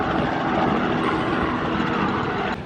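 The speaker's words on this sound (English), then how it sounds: "There's a helicopter" Steady, loud rotor and engine roar of a helicopter passing close overhead at the Atlantic City boardwalk, constant throughout and no voices.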